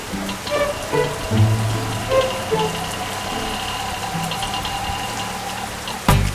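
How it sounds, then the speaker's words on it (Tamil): Rain falls steadily and closely on a surface while a vehicle idles beneath it. A brief sharp sound comes at the end. "சிவானி, அதான் மழையில நனைய கூடாதுன்னு சொன்னல"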